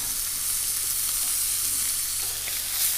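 A steak fries in a hot pan with a constant, dense, close-up sizzle that holds at an even level throughout.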